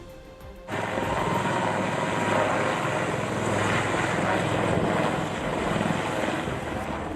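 An Indian Army helicopter drones loud and continuous, its engine and rotor noise rising abruptly after a short quieter start and holding steady throughout.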